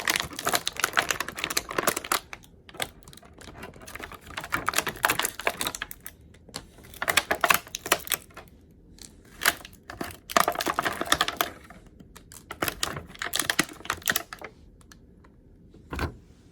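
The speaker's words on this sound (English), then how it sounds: "So let's go ahead and take them out of the plastic." A Star Wars Black Series heavy battle droid action figure is pulled from plastic packaging, with close, irregular crinkling, clicking and snapping plastic in uneven bursts and short pauses, no talking.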